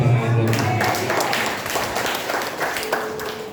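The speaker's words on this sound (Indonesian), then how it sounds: "Berikan tepuk tangan buat" Church congregation applauding, a steady patter of many hands clapping mixed with voices and background sound over a few seconds.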